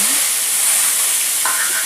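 Chopped onion sizzles in hot oil tempered with mustard seeds, cumin and asafoetida, a loud, steady frying hiss heard up close with no pauses and no voices.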